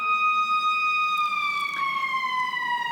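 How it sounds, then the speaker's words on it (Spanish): A loud, close siren wails alone in a steady drawn-out tone that slowly slides downward in pitch. "esta sirena fue como una alarma para nosotros"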